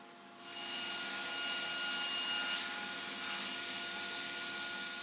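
Table saw with a crosscut sled slicing short lengths of wood: a steady, loud broadband whine of blade and cut that starts abruptly after a half-second and holds for several seconds, easing slightly near the end.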